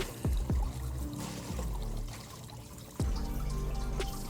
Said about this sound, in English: I'm pouring it in these buckets and taking it outside